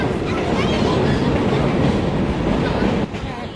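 A heritage train rolls along old tracks, a steady close rumble with rhythmic clickety-clack filling the whole stretch, easing slightly near the end; no talk over it.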